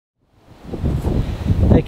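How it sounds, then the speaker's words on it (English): Strong wind buffets the microphone outdoors in woodland during firewood and hazel harvesting, a loud low rumbling gust that swells in after a brief quiet and stays close and blustery. "Again, apologies for the wind,"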